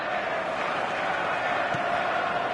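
A steady, dense roar of a stadium crowd fills a PS4 football video game on a clear night before a showcase match, continuous and evenly loud throughout with no distinct cheers standing out.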